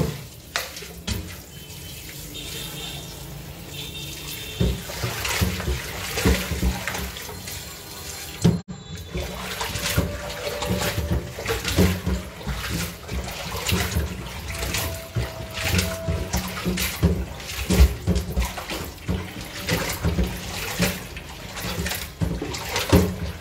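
Water running from a kitchen tap while fish is washed, a continuous splashing stream with shifting gurgles and clatter of handling, fairly close and steady throughout.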